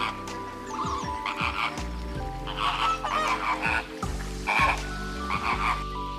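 Flamingo calls: a run of harsh, croaking honks repeated in uneven bursts, close and fairly loud, with no talking.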